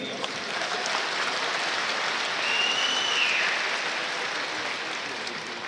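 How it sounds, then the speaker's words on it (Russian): An audience applauds a fighter at an MMA event in Moscow, with dense, sustained clapping that swells slightly midway and carries on at an even level throughout. "Ваши аплодисменты"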